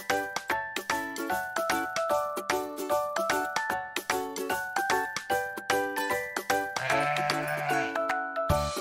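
Sheep bleats over a steady musical backing with rhythmic percussive hits, loud and close, no talking.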